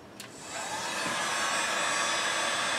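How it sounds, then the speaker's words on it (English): A Blue Point heat gun, set on low for a headliner install in a classic Mustang, starts with a click and rises into a steady, close whooshing blower roar that holds constant, with no talking. "I have it's a Blue Point, you know, heat gun, and I'm going to set it on low"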